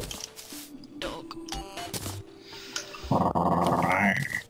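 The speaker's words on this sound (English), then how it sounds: "Dog." A pet dog growls in low, rumbling bursts close to the microphone, with a louder snarling stretch toward the end.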